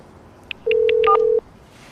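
Phone number being dialed to reach a car owner: several short keypad tones in quick succession, then a single long steady tone, close and clear over quiet background.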